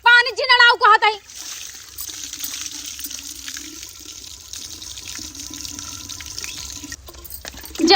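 Water gushes from a village hand pump and splashes out in a steady, close stream for several seconds, following a brief burst of voices at the start.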